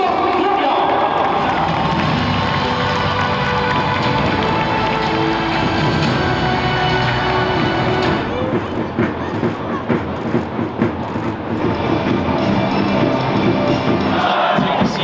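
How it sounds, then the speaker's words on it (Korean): Loud, continuous roar of applause and cheering from a stadium crowd at a 2023 K League 1 Round 36 football match between FC Seoul and Jeju, with an amplified voice talking over it throughout. "여러분의 뜨거운 박수가 부탁드립니다"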